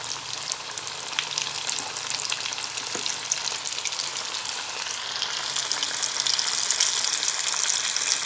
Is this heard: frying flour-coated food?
yes